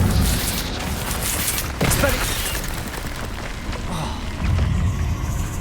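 A fiery Incendio spell cast in the Hogwarts Legacy game, a loud whooshing burst with booming thumps around two seconds, over continuous game noise with further bursts late in the clip.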